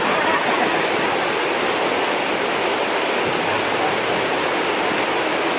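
Strong water rushes under heavy pressure as a steady, loud, unbroken roar that stays close and constant throughout.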